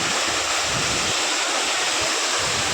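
Sawatsada waterfall at Chiplun, water pouring and splashing in a dense, constant roar close by, with no voices.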